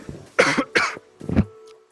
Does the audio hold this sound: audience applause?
no